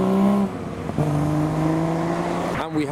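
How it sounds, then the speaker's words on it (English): A Triumph TR6 convertible pulls away from a wet classic car meet, its engine note droning and shifting pitch as it drives off, with a voice briefly heard near the start. "We next have a Triumph TR6 leaving."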